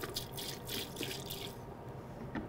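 Isopropyl alcohol swished inside a dental 3D printer part and poured out, a steady splashing, trickling rush for about a second and a half that stops abruptly, leaving a faint last drip.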